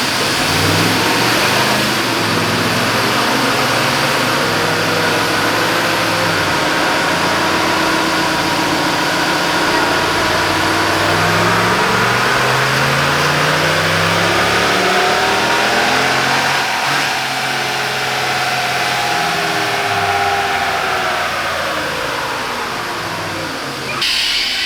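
A 2019 Ram Pulsar truck on a dyno in 5th gear with no load revs hard and steadily, its loud engine note rising and falling in pitch throughout, close and continuous without talk.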